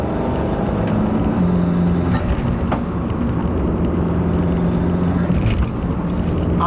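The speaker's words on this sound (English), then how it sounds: "As you can hear by, hopefully, the burbles and backfires, yes, this is on a burble tune" A 2015 Fiat 500 Abarth with a Eurocompulsion Phase 2 big turbo and a burble tune rumbles along steadily from close by, with a few brief sharp pops from the exhaust scattered through the run.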